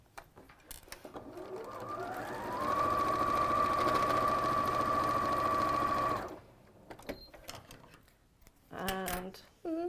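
A sewing machine stitches quilt block fabric in a sewing studio. It winds up, runs as a steady loud whir for a few seconds, then stops, and brief voices and handling noises follow.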